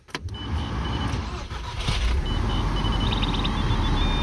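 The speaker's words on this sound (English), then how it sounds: "you need to start the car." A VW Mk5 GTI's engine cranks and starts, catching quickly and settling into a steady idle rumble, with short electronic beeps chiming over it toward the end.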